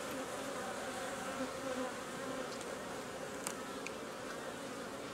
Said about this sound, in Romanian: Nu umblu foarte des la albine.